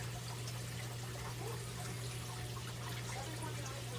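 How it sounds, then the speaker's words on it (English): Steady stream of water pours into a pot of homemade seasoned chicken broth, a continuous even splashing trickle that stays constant throughout with a faint low hum behind it. "we're going to add water to it"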